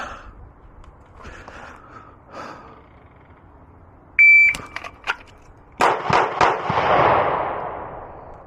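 A Glock 26 subcompact pistol drawn from a holster fires two sharp, close, loud shots in quick succession, followed by a few more cracks and a louder burst of noise, against a quiet outdoor range background.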